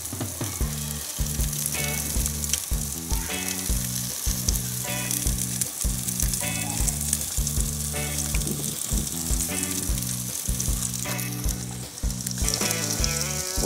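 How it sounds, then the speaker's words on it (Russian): Loud, continuous sizzling of meat frying in a hot pan, with occasional clinks and scrapes of stirring. "В общем, вот так вот жарим мясо."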